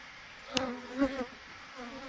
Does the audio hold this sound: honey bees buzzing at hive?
yes